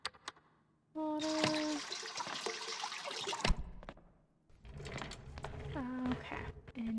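Water pouring into bread dough in the video game Bakery Simulator, a steady gurgling stream with rising pitch that runs for a few seconds, stops, then pours again, close and moderately loud.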